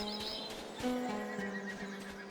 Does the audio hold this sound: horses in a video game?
yes